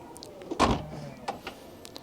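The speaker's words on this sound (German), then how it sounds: "Und jetzt sollte die Klappe auch wieder gut zugehen." A Tesla Model Y tailgate swings shut with a single muffled thud, a short mechanical whir and faint clicks following, heard up close with no talking.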